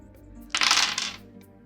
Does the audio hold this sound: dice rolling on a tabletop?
yes